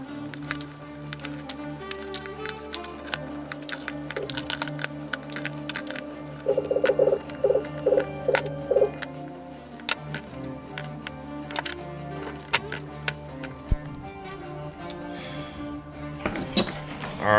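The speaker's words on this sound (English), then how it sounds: "what I'm gonna be doing is trimming down all of my power wires and connecting them right to their designated power terminal" Power wires being trimmed and crimped for a race car fuse and relay panel: scattered sharp snips and clicks throughout, with a tight cluster of louder ones midway, no speech.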